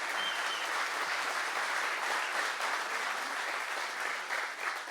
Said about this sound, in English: give them a huge round of applause for this event